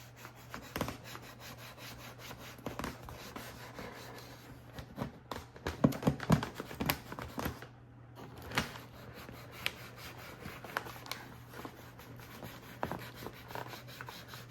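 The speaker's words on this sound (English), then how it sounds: "I'm using the scrape tool and gently go over to flatten it down." A scraper tool rubs a vinyl decal flat onto a balloon, giving soft, close scratchy strokes and light taps repeated irregularly over a steady low hum, with no talk.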